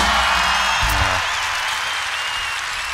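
Concert audience in the O2 Arena applauding a band, a dense, steady roar of clapping from a huge crowd that fills the whole stretch and eases slightly toward the end.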